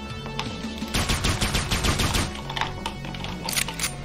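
Pistol fire in the top-down action game Hotline Zombies, a loud burst of rapid, sharp shots in quick succession over a busy game soundtrack.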